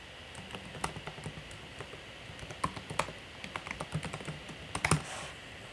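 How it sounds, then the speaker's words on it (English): An email address typed on a computer keyboard while setting up a LastPass account: a steady run of close, crisp key clicks with brief pauses and a few louder strikes, with no talk. "Here you're going to type in your email address."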